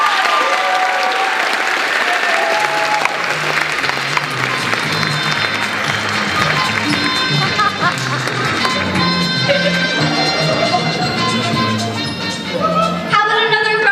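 Sustained crowd applause at the 2019 Winneconne Performing Arts Awards Show after an award announcement, with dense steady clapping throughout and music entering beneath it.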